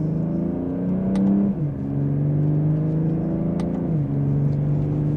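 A 2025 BMW M240i coupe accelerates hard in sport mode on a backroad. The engine drone climbs in pitch, drops sharply at two upshifts, then pulls again. It is loud, steady and close, with no talk.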